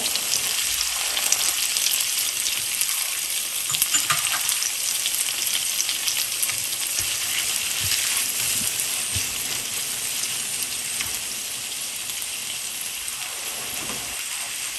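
Ground spice paste fries in hot oil with tomato for a Bangladeshi koi fish curry, a loud, dense, rain-like sizzle holding steady throughout with occasional faint stirring sounds, close and alone.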